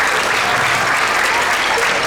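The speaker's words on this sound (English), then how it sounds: "Round of applause for Ken Smith." An audience at a sixth grade school winter concert applauds, a steady, dense wash of clapping from many hands that fills the whole moment.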